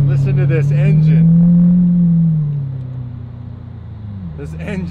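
Loud V12 drone from a straight-piped Lamborghini Aventador Roadster, swelling as it revs then easing off to a lower, steady idle-like hum, with a person speaking over the start and end.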